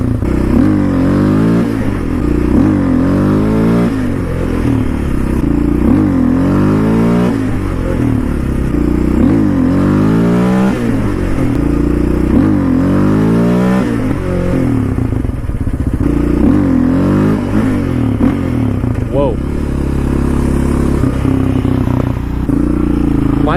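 A Yamaha Raptor 700 quad's engine revs hard and repeatedly during wheelies, loud and close, with rising and falling pitch sweeps and some mechanical clatter throughout.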